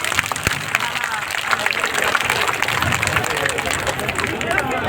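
A crowd at a Jan Suraaj political rally in Gopalganj claps loudly to welcome a speaker, a dense, continuous burst of applause with voices and chatter mixed through it.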